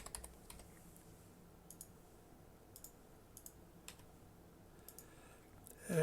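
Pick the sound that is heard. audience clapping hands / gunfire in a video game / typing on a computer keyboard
typing on a computer keyboard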